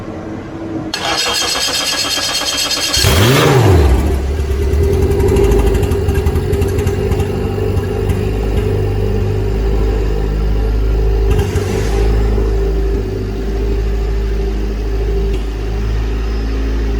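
A homebuilt ICP Savannah S light aircraft engine cranks and catches on its first start, then settles into a loud, steady idle with a continuous low drone that carries on alone to the end.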